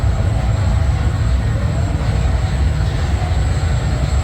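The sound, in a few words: amusement park train ride at Gold Reef City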